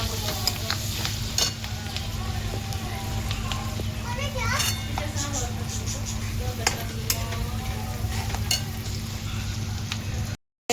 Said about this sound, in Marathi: हळद टाकली आता चांगलं परतून घेऊ आपण हे